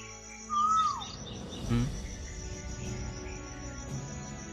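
A bird whistles a short call in a quiet forest, with crickets buzzing steadily in the background and a faint rustle.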